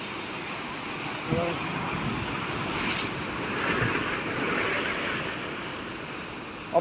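Sea waves breaking at Poompuhar beach, a steady broad wash of surf under heavy wind rumbling against the microphone, with a few faint bumps and thuds along the way.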